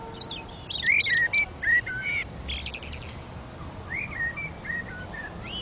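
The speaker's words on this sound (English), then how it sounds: "some birds are singing their dawn chorus in the middle of the night" Birds sing a dawn chorus in the middle of the night under street lamps, with bright chirps and whistled phrases in bursts near the start and again later, over a steady low background hum.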